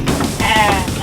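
A single sheep lets out one loud, close, wavering bleat lasting about a second.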